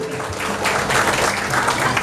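Applause from a crowd at a regional lime festival gathering, dense steady clapping that swells slightly and holds loud throughout with no voices over it.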